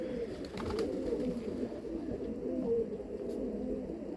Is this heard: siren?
no